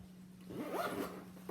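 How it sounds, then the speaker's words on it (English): A zipper on a Jujube bag is pulled in one quick, close zip, soft and clear in a quiet room. "Zip around the fuel cell."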